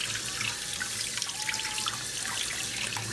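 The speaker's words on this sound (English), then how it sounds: "I'm going to take it out and just kind of give it a good rinse" Running tap water rinsing a yellow pompano fish in the sink, a steady close splashing trickle throughout with no voices.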